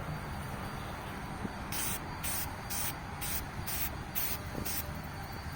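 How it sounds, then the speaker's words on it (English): Short repeated bursts of spray mist oil onto a reusable K&N cotton air filter, about eight quick hissing pulses in a steady rhythm, close and fairly loud over a constant background noise. "spray it on there like you're painting something"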